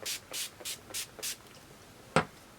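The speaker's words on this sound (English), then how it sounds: "Setting spray, because I like to layer my setting spray. So we're gonna go in with the Urban Decay All Nighter" Urban Decay All Nighter setting spray gives five quick, evenly spaced hissing spritzes, close and soft, followed by one sharp tap.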